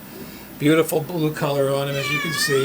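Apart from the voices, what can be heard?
cat meowing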